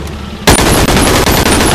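Rapid automatic fire from side-mounted guns in a video game bursts in suddenly and keeps going as a dense, loud, continuous stream of shots.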